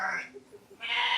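Sheep bleating during shearing, a short nasal bleat at the start and a louder one at the end with faint lower sounds between, close by.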